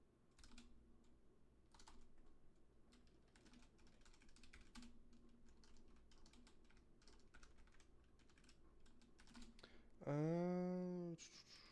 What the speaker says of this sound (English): Type this out.